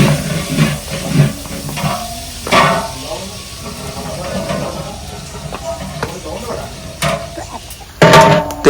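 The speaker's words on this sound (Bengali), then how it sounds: "তেলের মধ্যে পেঁয়াজ ভেজে নেওয়া হচ্ছে" Onions fry in oil for a village-style biryani, giving a low, steady sizzle with occasional stirring scrapes, partly under conversation.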